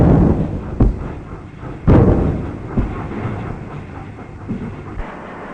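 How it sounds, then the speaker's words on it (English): A 1942 newspaper train lurches into motion from a station with heavy metallic clanks and thuds over a low rumble, loud and close. "the newspaper train starts just on time"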